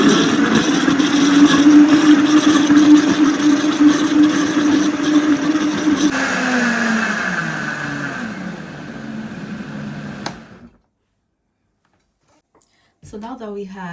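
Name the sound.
blender blending non-alcoholic pina colada with ice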